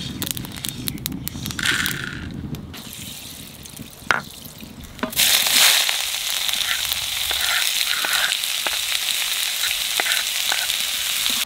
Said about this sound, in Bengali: শুকনো খোলায় কটা মশলা ভাজিয়ে নেবো